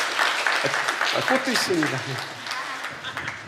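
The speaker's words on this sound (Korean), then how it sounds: "박수로 격려해 주십시오." Scattered applause from a church congregation at a Sunday service, encouraging new members after a communion certificate is read; the clapping stays moderate and sits under a voice that speaks briefly over it.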